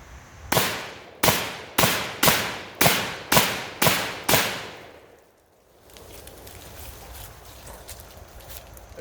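A Gforce GF1 12-gauge semi-automatic shotgun with a magazine tube extension fires Federal 1200 fps shells outdoors, eight loud evenly spaced booming shots, each with a short decaying echo, followed by quiet ambience.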